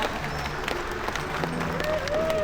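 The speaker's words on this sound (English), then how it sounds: "I think they deserve one more round of applause, everyone." Audience applause at a Sea World Gold Coast sea lion presentation, a steady spread of clapping from a crowd lasting a few seconds with some voices mixed in.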